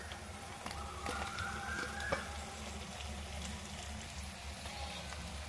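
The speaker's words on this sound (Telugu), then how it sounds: "ఇప్పుడు మనం ఉడికించిన పాస్తా వేసుకుందాం" Boiled pasta fries in a pan with salt, chilli and turmeric, giving a steady, close sizzle that holds evenly throughout with no talking.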